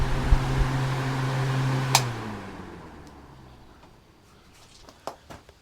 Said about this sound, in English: we have a fan for those hot, dusty days that you're milling